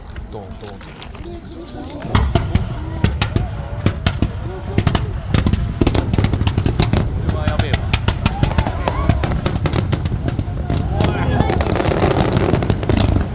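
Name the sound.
fireworks exploding at a fireworks festival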